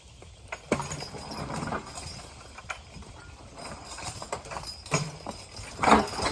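A team of horses walks while pulling a heavy load, hooves clopping in an uneven rhythm on hard ground, with creaks and clanks of harness and gear, moderately close, without talk.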